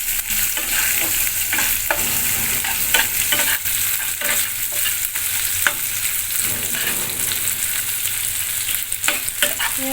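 Chopped onions frying in a pan for a Bengali muri ghonto with katla fish head, a loud continuous sizzle broken by frequent clattering stirs of a spatula, no talking.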